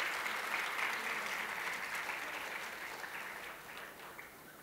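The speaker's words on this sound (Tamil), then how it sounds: "இந்த அரங்க அமைப்பாளர்களுக்கு ஒரு இடைவிடாத கைத்தட்டு." An indoor audience at a book launch event gives steady, sustained applause for the organisers, a dense patter of many hands clapping that slowly fades across the stretch without any voices over it.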